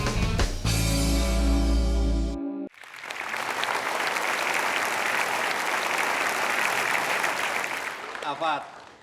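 An audience at a 2015 education achievement event applauds a mother in sustained, dense clapping that fills the hall for several seconds after a short, loud opening passage with a voice.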